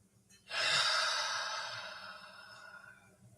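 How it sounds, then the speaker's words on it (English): A long, deep breath in a calm morning meditation session: a soft, airy inhale swelling then slowly fading over about three seconds, close and gentle, with no talking. "few deep breaths."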